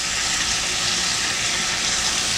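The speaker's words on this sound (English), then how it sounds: "Can you hear the sizzle? That's what you want to hear if that pan's right." Bologna breakfast scramble frying in a hot pan gives a steady, loud sizzling hiss that fills the short stretch without any speech.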